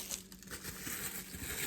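A plastic bag crinkles and rustles softly and continuously, close by, as cut slices of meat are bagged by hand.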